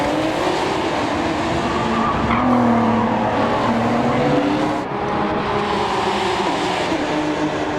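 Race cars lapping in Gran Turismo 7 with prototype-level grip, loud engine drone and squealing tires, pitch rising and falling as they corner, close and continuous.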